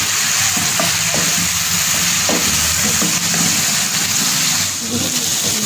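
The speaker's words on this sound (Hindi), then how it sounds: "तो 1 या 2 मिनट के लिए हम चिकन के साथ फ्राई कर देंगे।" Chicken and chopped green chilli frying together in a pan: a loud, dense, continuous sizzle with occasional stirring knocks and scrapes, close up and without talk.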